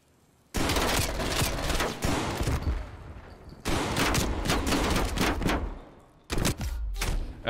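MK2 weapon fire in a video game: several loud, dense bursts of rapid gunshots separated by short pauses, close and punchy.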